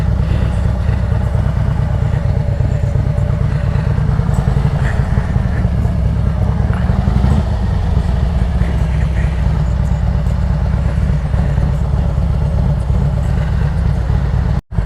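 A motorcycle engine runs nearby at Dragon week, a steady low rumbling idle that fills the whole stretch with a slight rise in the middle, then cuts off abruptly at the end.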